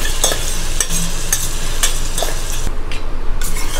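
Mutton sautéing in ghee over medium heat, a loud close sizzle with rhythmic stirring scrapes and clinks of a utensil against the pan, no talking.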